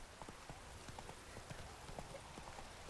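Horse hooves trotting in The Witcher 3 video game, a quiet, steady clip-clop rhythm of soft thuds under a faint background wash, with no talking.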